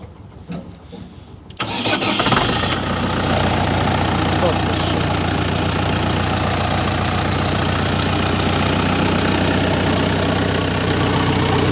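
A Fayter T-404-RD mini tractor engine cranks and catches after a quiet moment, then settles into a loud, steady, close idle with a rough mechanical chatter, with voices nearby.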